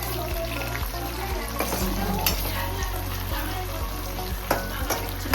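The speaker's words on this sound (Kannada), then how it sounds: "ಈಗ ಟೊಮೊಟೊನ ಆ್ಯಡ್ ಮಾಡ್ತಾ ಇದ್ದಾರೆ. 2 ಟೊಮೆಟೊಸ್. ಟೊಮೊಟೊನ 2 ಮಿನಿಟ್ಸ್ ಚೆನ್ನಾಗಿ ಕುಕ್ ಮಾಡಿ." Tomatoes fry in oil in a pan with a steady close sizzle, while a spoon scrapes and stirs in a regular rhythm throughout, with occasional sharper clinks.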